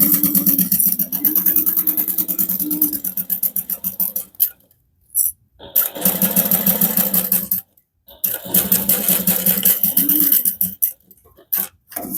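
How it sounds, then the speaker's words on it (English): A sewing machine stitches a seam on a harmonica hobo bag with a half-inch allowance, running in fast rhythmic bursts of needle clatter separated by brief pauses, close and clear. "I'm going to sew this together using a 1/2 inch seam allowance"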